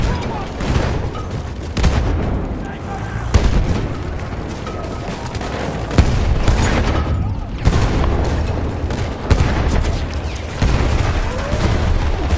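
Battlefield 1 Conquest combat with dense, continuous gunfire and repeated booming explosions, including a grenade blast, under shouted voices.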